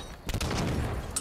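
Rapid gunfire from the video game Halo 5 rattles out in a dense, continuous burst of close, loud shots lasting just over a second.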